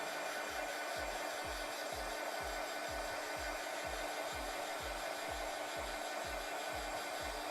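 A heat gun drying a colored pencil drawing made with Caran d'Ache Pablo pencils gives a loud, steady blowing roar. Regular low thumps pulse beneath it about twice a second, and no one speaks.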